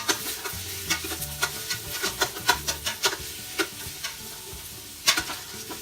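Onions cooking down in a pan while a spatula pushes them around: a soft, steady sizzle under repeated scraping strokes in an uneven rhythm, close and moderately quiet, with no talking.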